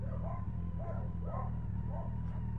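Dogs bark in a quick repeated series of four or five yaps over a loud, droning low hum, fairly close and steady with no talk.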